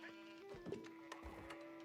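Short, faint sheep bleats from a strategy video game, a couple of brief calls over a quiet, steady game background.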